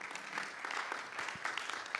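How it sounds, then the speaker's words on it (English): Conference workshop attendees applaud the ambassadors, a brief, soft, hall-wide clapping heard from a distance with a few sharper claps standing out. "this does call for a round of applause for all the ambassadors here."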